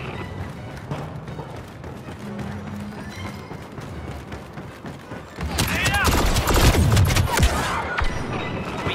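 Video game battle gunfire erupts partway through, a loud sustained burst of rapid shots over a rumbling backdrop, following quieter ambient noise and distant voices.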